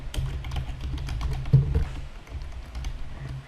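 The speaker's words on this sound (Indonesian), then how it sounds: "kita tekan enter dulu. Enter lagi." Keys click on a computer keyboard while a table is built in Microsoft Word 2013, soft quick taps with a couple of heavier enter-key presses near the middle, fairly quiet and close.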